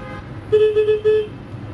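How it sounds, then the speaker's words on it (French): Car horns honking on a road in India, a short burst of three or four quick toots around the middle, fairly close, over a low traffic rumble. "C'est notre dernier moment sur les routes indiennes, les klaxons."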